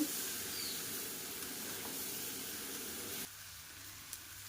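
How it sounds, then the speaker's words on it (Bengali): Malabar spinach leaves are sautéed in a pan for a home-cooked lunch, hissing in a steady, close sizzle that drops suddenly to a quieter simmer near the end, followed by a small tap. "অল্প অল্প করে কষে নেব"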